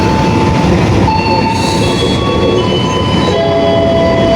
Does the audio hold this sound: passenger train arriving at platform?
yes